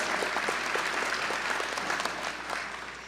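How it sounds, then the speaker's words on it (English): Dense, sustained applause fills a hall at a 2014 School of Medicine commencement, with many hands clapping steadily at a moderate distance and easing slightly toward the end. "It's okay to clap."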